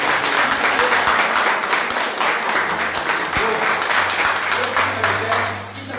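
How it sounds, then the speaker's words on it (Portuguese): A church congregation applauding during a worship service, dense sustained clapping from many hands filling the room, with voices mixed in and a low hum underneath before it eases off at the end. "Aplauda o Senhor em nome de Jesus."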